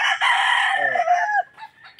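A fighting-cock rooster crows once, loud and close, its long strained call rising and then breaking off, with a faint trailing note after it.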